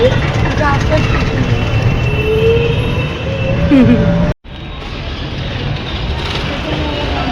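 Steady rumbling roar of a metro train running on rails, with a brief squeal of wheels, a sudden cut in the sound, then continued rolling noise.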